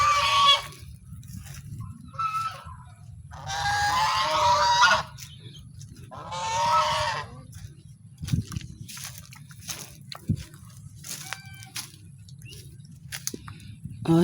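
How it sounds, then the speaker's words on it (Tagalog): Geese give loud, nasal honking calls in several separate bursts, close by, with quieter clucks and rustling between them and people talking now and then. "Asan yung isa? Asan yung isang ganso?"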